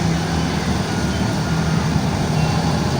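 Pangeran luxury-class front-engine bus passing on a Sumatran road near an emergency bridge, a loud steady engine rumble and broadband road noise throughout, with no clear rise or fall.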